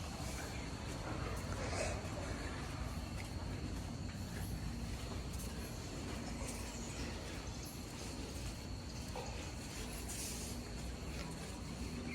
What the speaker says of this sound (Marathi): समोरून कोकण रेल्वे जाते